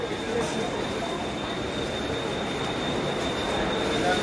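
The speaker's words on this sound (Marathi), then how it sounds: "ट्रेन लागली आमची इंद्रायणी एक्सप्रेस" The Indrayani Express stands at platform 10 of Dadar station, a loud, steady rail rumble with a thin, continuous high wheel squeal and clattering under the din, with no talk.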